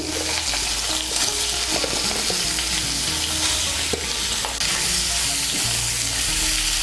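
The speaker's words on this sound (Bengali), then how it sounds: "কড়াইতে যে তেল আছে এই তেলের মধ্যে আমি সোয়াবিনগুলো ভেজে নেব" Soybeans frying in hot oil in a wok: a loud, continuous, crackling sizzle that fills the whole stretch, with occasional stirring knocks and no speech.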